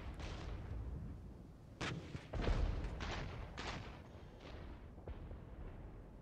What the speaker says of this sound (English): A10 gun run.